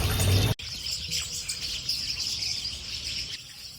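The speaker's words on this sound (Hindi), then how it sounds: "ये देखो ना, गौरिया कैसे लड़ती है।" House sparrows chirp and squabble near a home, rapid high tweets and scratchy calls over faint outdoor background hum, after a brief loud knock at the start, with no talking.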